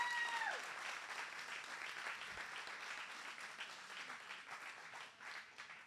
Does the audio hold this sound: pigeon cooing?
no